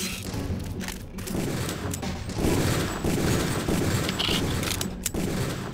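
Gunfire in the PC game Deus Ex, a string of loud, close in-game shots and thuds with booming impacts spread across several seconds, heavy and overlapping with no speech heard.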